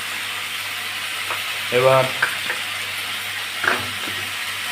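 Chicken liver sizzles and fries in a pan with onions, a steady hiss with a couple of louder stirring bursts, and a brief word spoken over it.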